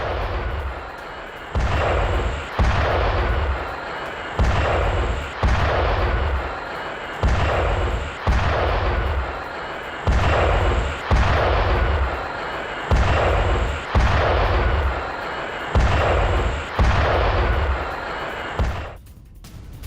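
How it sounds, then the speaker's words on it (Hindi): Explosions from an Iranian missile attack on Israel, seen in news footage, thud again and again at a steady, regular beat. Each heavy boom is followed by a short rumble, continuing for about twenty seconds. "इजराइल पर ईरान का मिसाइल से हमला हुआ।"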